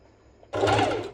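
A sewing machine runs a straight stitch on a crop top for about half a second, a sudden loud burst of fast mechanical whirring after a quiet start.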